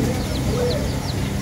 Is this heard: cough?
no